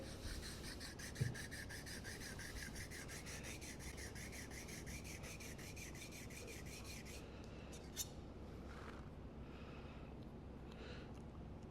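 Steady rhythmic rubbing rasp of a steel card scraper's edge being flattened back and forth on the 1000 grit side of a sharpening stone, close and continuous, with strokes changing pace partway through.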